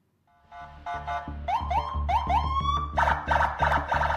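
An official escort vehicle sounds its siren and horn on the road: a rising warble that turns into rapid, repeated pulsing whoops, loud and close.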